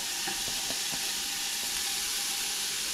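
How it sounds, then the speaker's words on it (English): Onion going into a hot pan for Zuppa Toscana, a steady broadband sizzle with a few faint knocks near the start. "Now I'm going to put in the"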